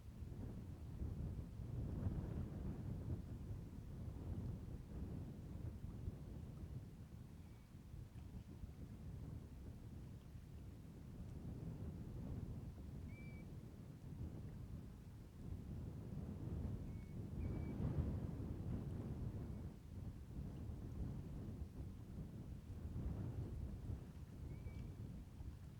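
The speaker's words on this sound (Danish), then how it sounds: "Det høres veldig tordenvær ut." Low rumbling thunder rolls on and off through a steady storm wash of rain and wind on an open northern mountain plateau, the rumbles swelling and fading in long waves with no voices.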